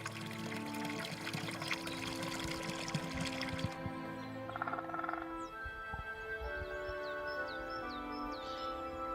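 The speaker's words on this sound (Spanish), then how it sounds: "el agua del deshielo forma pequeñas lagunas y se filtra entre las fisuras de la roca, rellenando gélidos manantiales" Snowmelt water trickles and pours between mountain rocks in a steady, close splashing flow, with faint bird chirps appearing later.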